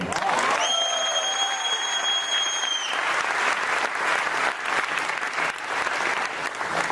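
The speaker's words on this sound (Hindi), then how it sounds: "थैंक यू सो मच तालियों के लिए" Loud, sustained applause and some cheering from an audience at a motivational speech in Mumbai, with a whistle-like tone ringing over the clapping early on.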